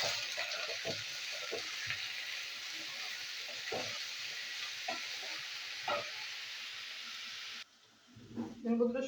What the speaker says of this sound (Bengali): ভেজিটেবিলগুলো আমি ভেজে নেবো।